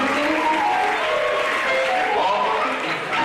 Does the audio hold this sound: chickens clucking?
no